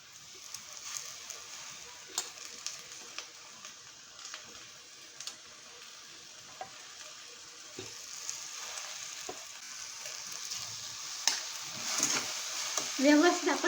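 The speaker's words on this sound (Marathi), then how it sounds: "व्यवस्थित आपण ढवळून घ्यायची आहे" Radish and chana dal sabji sizzles in a pan as it is stirred, a steady close crackle broken by scattered spoon scrapes and taps that grow busier toward the end.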